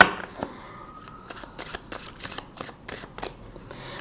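Tarot cards shuffled and drawn by hand, a close run of quick papery riffles and flicks in irregular bursts, fairly soft and without talk.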